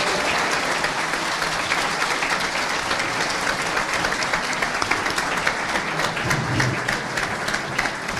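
Steady, dense applause from an audience at a graduation ceremony for a diploma course in radio, television and digital media, holding loud and even throughout with no speech over it.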